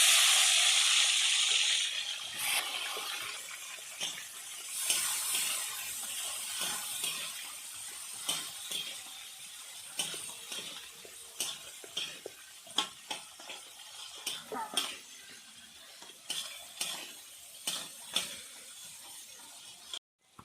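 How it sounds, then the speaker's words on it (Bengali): Bori lentil dumplings fry in hot oil with a soft continuous sizzle, broken by many sharp clicks and taps of a spatula against the pan over about twenty seconds, no speech. "আমি বটবটিগুলো ভেজে নেব"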